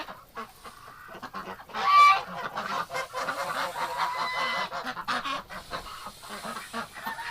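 A flock of geese honks repeatedly at close range, raspy overlapping calls rising and falling with no pauses, loudest in a burst near the start and continuing busily throughout.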